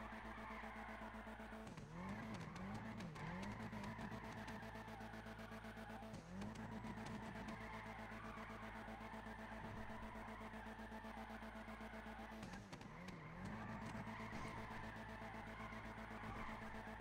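Car drifting in GTA V on PC, steady engine drone running throughout with rising tire squeals that recur in a few bursts as the car slides through turns.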